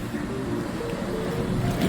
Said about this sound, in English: The blower, the bubbles, is working perfectly.